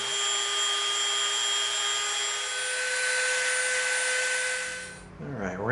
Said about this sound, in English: we're going to match this angle right here over on the bandsaw. We're going to tip our table and we're going to cut this